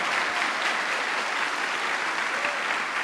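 A church congregation claps steadily and loudly during a worship service, a dense sustained wall of applause with no break.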